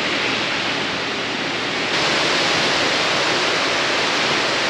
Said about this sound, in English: It gets pretty loud in these greenhouses when it starts to rain like this